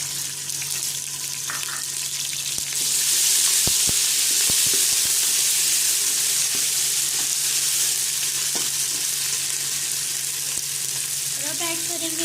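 Fried onions and ginger garlic paste in a pot for beef haleem, with a loud broad sizzle that swells after a few seconds and holds steady, and a few faint clinks of a utensil.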